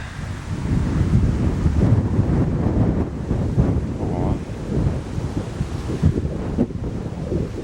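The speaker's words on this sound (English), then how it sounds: "Wind's starting to pick up a little bit." Wind blows outdoors near open water, a loud, gusty rush buffeting the microphone with low rumbling throughout.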